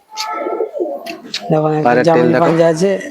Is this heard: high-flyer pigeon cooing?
yes